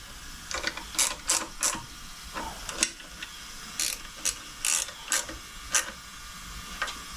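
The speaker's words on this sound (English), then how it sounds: "here's my 10 mil ratcheting wrench right here" A 10 mm ratcheting wrench clicking in quick, repeated bursts while tightening carburetor screws on a 1994 Polaris SLT 750, the crisp ratchet ticks close and distinct over faint background hiss.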